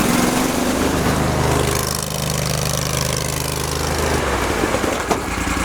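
An Argo Avenger amphibious vehicle drives in low gear, its engine droning loud and steady at close range with a constant mechanical rumble throughout.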